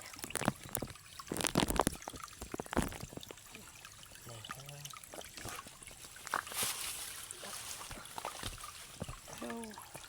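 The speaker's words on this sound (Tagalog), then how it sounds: "Lagyan ng tubig." Water poured into a batch of cement mix, heard as an intermittent splashing trickle at moderate distance, with scattered clatter and voices talking over it.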